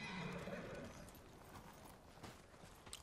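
A horse whinnies loudly at the start, followed by hoof clip-clops and faint background sounds, in the video game Ghost of Tsushima.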